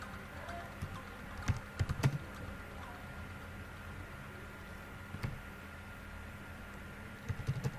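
Someone types a description on a computer keyboard while setting up a WordPress website, producing sparse, quiet key clicks in short bursts against a faint room hiss.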